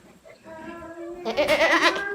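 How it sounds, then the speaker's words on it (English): A farm goat gives a single loud, wavering bleat in the second half, following a quieter, lower bleat-like tone at the start, with no talk over it. "Good goat. You're so well behaved."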